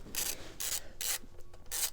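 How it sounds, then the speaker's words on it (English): Copper-greased bolts with washers are turned in by hand on Royal Enfield Interceptor 650 crash bars, giving close, faint, rhythmic rasping scrapes in short repeated bursts. "these final little bolts, just round them in a couple of turns by hand"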